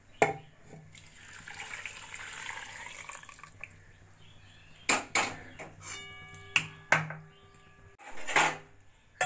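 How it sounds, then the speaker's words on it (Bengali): Hot water poured into a pressure cooker holding mutton in a home kitchen, a soft running pour followed by metallic clinks and knocks of pots and utensils. "এবার এই জলটাই আমি প্রেসার কুকারে দিয়ে দেব।"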